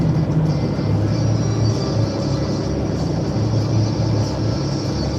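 Steady low engine rumble of a Peterbilt truck heard from inside the cab in Tuckahoe, South Jersey, a continuous droning hum with a faint high whine above it and no talk.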